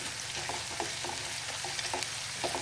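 Onion and garlic sautéing in oil in a pan over high flame, a dense, continuous sizzle with small crackles and stirring scrapes.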